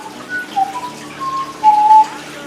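Toy bird chirping a short whistled tune, a few bright sparse whistles and trills in a quiet room, the last note longest and loudest.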